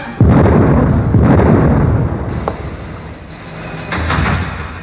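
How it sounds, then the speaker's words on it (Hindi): A couple of heavy booming blasts from a house explosion, somewhat distant, followed by lingering rumble and a fainter third thud. "ये धमाके की आवाज?"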